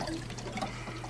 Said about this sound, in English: Carl, I'm going to prime that trap for us, buddy. And let you know when we get water back here